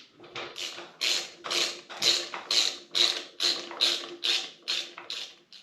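A brake caliper is bolted onto the rear wheel of a 1991 Harley-Davidson, heard as a steady run of about a dozen loud, close ratchet clicks and mechanical taps in even rhythm, with no voices.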